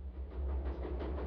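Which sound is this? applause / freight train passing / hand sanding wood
freight train passing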